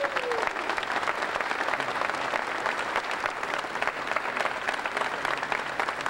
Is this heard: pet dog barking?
no